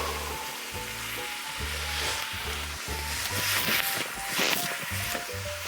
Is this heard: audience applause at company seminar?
no